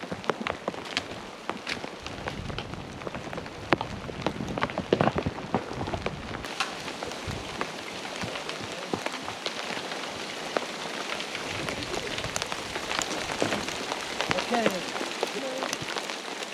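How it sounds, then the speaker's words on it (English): Steady rain and hail patter on trees during a wilderness storm, a dense close hiss of drops with scattered sharper hits throughout. "they started to hail"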